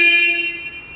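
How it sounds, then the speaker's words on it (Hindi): A single loud, close horn beep from a 2022 Yezdi Scrambler motorcycle that fades out within a second, with no voices. "इस तरीके से आपका हॉर्न आ जाएगा।"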